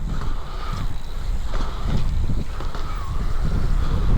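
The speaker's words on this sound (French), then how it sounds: "Ah oui, on a le vent de dos." Steady tailwind rushing past while cycling in Spain, broadband and continuous, with water or boat noise underneath; no voices.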